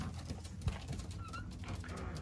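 Racing pigeons at a loft give soft, low cooing sounds in a quiet setting, with faint rustling and one brief thump, and no voices.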